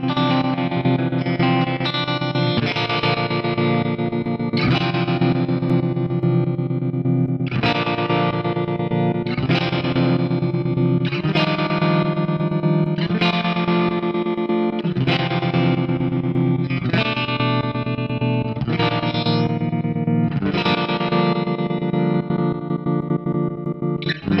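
BOSS SL-20 Slicer effect pedal in random mode chopping a sustained electric guitar chord into rapid, irregular rhythmic stutters, with distorted, chorus-tinged tone shifting through changing patterns, loud and continuous without talk.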